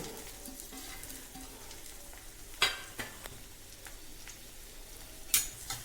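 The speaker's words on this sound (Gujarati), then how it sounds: "જો તેલ ગરમ થઈ ગયું છે આપણે મરચાં નાખીએ" Green chillies added to hot oil and frying for aloo paratha filling: a soft, steady sizzle close by, broken by a few sharp spoon clicks against the pan, with no talk.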